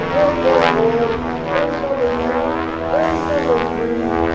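A Twin Beech propeller airplane flying aerobatics at an air show drones loudly, its engine tone rising and falling as it rolls and comes around, with no voices over it.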